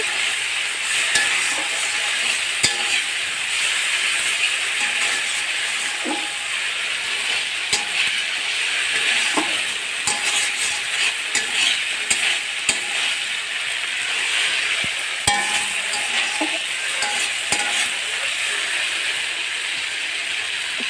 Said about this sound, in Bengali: এই যে মশলাটা দেওয়া হয়ে গেছে, মশলাটা কষিয়ে নেব।